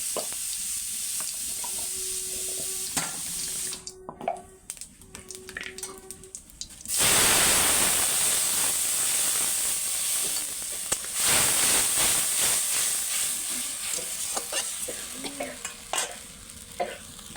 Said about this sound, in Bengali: ওই তেলে দিয়ে আমি একটু জিরা ফোড়ন দিয়ে দেবো